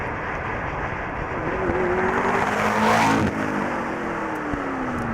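A McLaren MP4-12C creeps along at about 10 mph near Le Mans, its engine a steady low hum that swells slightly as revs rise and fall, under constant road and cabin noise.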